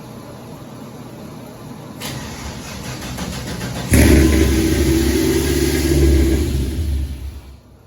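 An LS-swapped Chevy II gasser cranks over with a whirring starter, catches around the midpoint into a loud, rough idle and revs, then settles and fades near the end.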